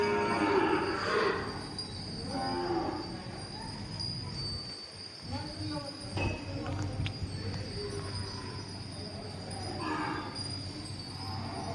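Cows mooing in a barn at evening feeding time after fodder has been put out, low drawn-out calls at moderate distance over a steady background hum, with faint voices nearby.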